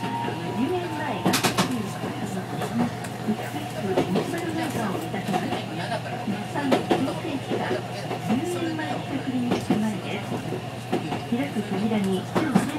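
A Toden Arakawa Line tram rumbles steadily along its rails toward Arakawa-yūenchi-mae in Tokyo, with rhythmic clacking over joints, a low constant hum, and occasional squeals; some faint birdsong in the background.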